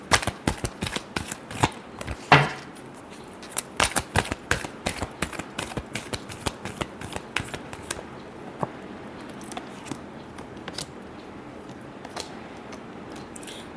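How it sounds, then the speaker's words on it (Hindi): Tarot cards are shuffled by hand in a quick, uneven run of crisp riffling flicks and slaps, dense at first and then thinning into softer, scattered taps, close and alone. "last shuffle"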